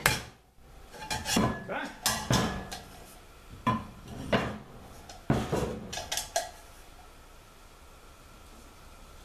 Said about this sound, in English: Flatten the bottom of the pot a little bit.